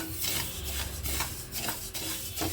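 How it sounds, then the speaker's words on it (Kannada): Fenugreek seeds are dry-roasted in a pan, about a kilogram done in small batches. A spatula stirs them in steady, rhythmic rasping strokes roughly every half second, up close with no voices. "ಮೆಂತ್ಯನ ಹುರ್ಕೊಳ್ತೀನಿ, ಸ್ವಲ್ಪ ಸ್ವಲ್ಪ ಹಾಕ್ಕೊಳ್ತೀನಿ"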